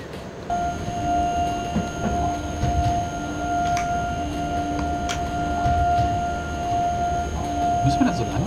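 A BR E186 electric locomotive pulls a freight train in the SimRail railway simulator, with a sustained tonal whine, rolling rail noise and occasional clanks, steady and close throughout.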